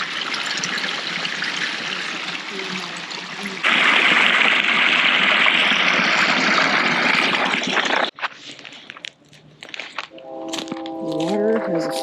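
Water flows and trickles steadily through an irrigation ditch dating from the late 1800s on a small pecan farm, growing louder partway through before the rush drops away to quieter rustling and faint background sounds.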